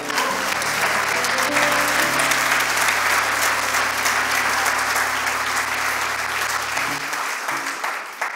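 A church congregation bursts into sustained, loud applause that fills the space evenly for about seven seconds before tapering off, with a low sustained tone underneath.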